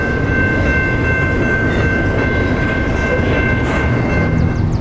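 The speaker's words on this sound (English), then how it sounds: "I'm greeted by a nice, lovely CP rail freight train" A CP Rail freight train rolls past on a rural trailway, a dense, steady roar of wheels and cars filling the whole stretch, loud and close, with a faint high squeal riding on top.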